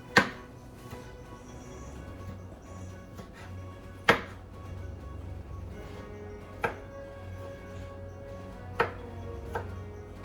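A knife chops potato on a kitchen board: a few sharp, separate knocks spaced several seconds apart over a quiet background, close and clear.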